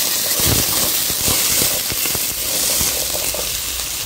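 Fenugreek seeds sizzle and pop in hot oil for a Tirunelveli-style sambar, a steady close hiss broken by scattered sharp crackles, with no one talking.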